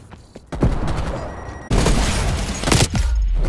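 Grenade explosions in Call of Duty: Black Ops Cold War, heavy booming blasts and rolling debris alongside bursts of gunfire, loud and close with no voices.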